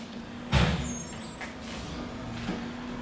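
A garbage truck on the road outside a shop gives a steady low engine drone with a brief louder burst and a short hiss like an air brake, heard from a distance with no talking.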